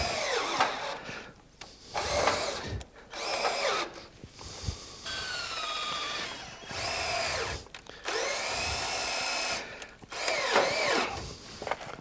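A power drill driving screws into wooden deck boards laid over a steel frame, several bursts of whining motor rising in pitch as each screw bites, separated by short pauses and clicks, close up.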